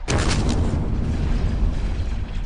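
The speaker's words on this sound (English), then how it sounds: "An explosion vaporized the major where he'd stood" A booming explosion effect from a Star Wars audiobook bursts at the start and then rumbles on as a dense, sustained roar through the short stretch.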